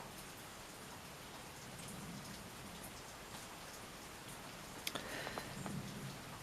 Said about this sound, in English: The rain is just coming to an end.